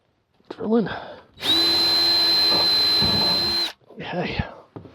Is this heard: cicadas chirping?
no